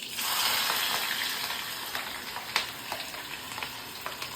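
Spices hit hot oil with a sudden loud sizzle that swells at the start and gradually settles into steadier frying, with scattered crackles and small clicks later on, heard close with no talking.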